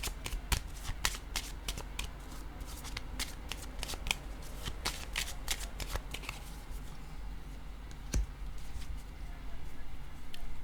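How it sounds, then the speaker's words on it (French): Playing cards handled, shuffled and laid down on a surface, a steady run of crisp close snaps and flicks, with a few louder slaps, over a quiet room background. "Je vais déposer une carte ici."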